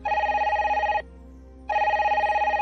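A telephone bell rings in two clear bursts separated by a short pause, each a rapid electronic trill, loud and close, heard alone as a sound effect in a narrated crime story.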